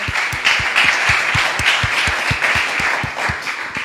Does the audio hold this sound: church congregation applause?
yes